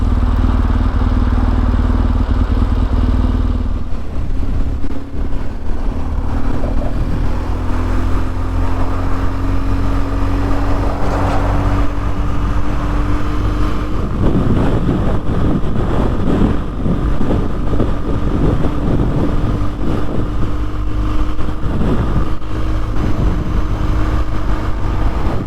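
A motorcycle cruising along Serbian national roads gives a loud, steady engine drone, heavily buffeted by wind across the whole stretch, with no talking.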